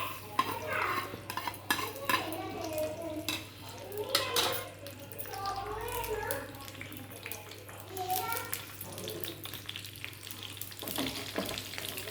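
Mustard seeds sizzling and popping in hot oil in a pan, with clinks of a utensil against the pan and voices talking over the cooking.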